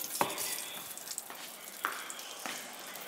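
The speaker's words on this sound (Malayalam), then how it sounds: "ഇനി നമുക്ക് പഴം ഇതിലോട്ട് ഇട്ടിട്ട് ഓരോന്നായിട്ട് നമുക്ക് എണ്ണയിലോട്ട് ഇട്ട് കൊടുക്കാം" Banana fritters (pazhampori) in rice-flour batter frying in hot oil, a steady close sizzle with a few sharper bursts and clinks as pieces go into the pan, no talking.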